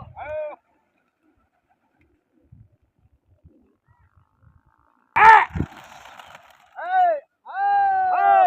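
Pigeons cooing at a pigeon-flying contest, a few short rounded coos close by separated by silence, with a sharp burst of noise and brief voices partway through.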